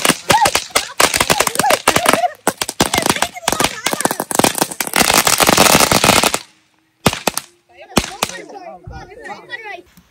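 Diwali firecrackers burst at a family party, a dense crackling string of rapid sharp pops followed by a pause and a few scattered bangs, loud and close, with people talking and reacting amid the noise.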